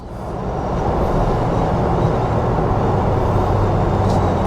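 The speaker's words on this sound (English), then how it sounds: "So you do get a little wind noise up here." Steady broadband rushing roar of wind and road noise inside a moving Ford Bronco Badlands, constant and fairly loud with no voices.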